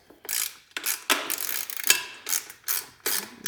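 A hand ratchet cranks in repeated short bursts of rapid clicking, loosening an 8 mm bolt on the cylinder head of a CR80 motorcycle engine, close up with brief pauses between strokes.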